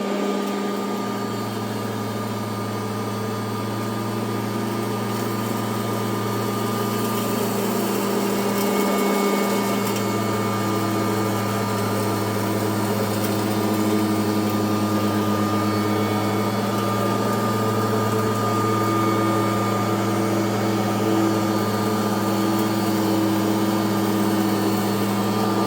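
A Kirby Heritage vacuum cleaner runs loud and close with a steady, even motor drone and a high whine. The drone dips for a moment partway through, then carries on unchanged.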